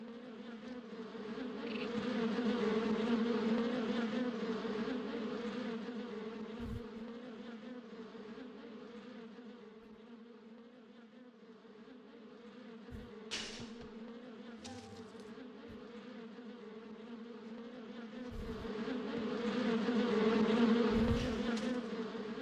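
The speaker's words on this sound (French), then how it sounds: "Oh, le bruit des abeilles c'est tellement fort." Loud, steady buzzing of a bee swarm in the video game Trash Day, droning continuously throughout, swelling and fading in intensity with occasional brief thuds.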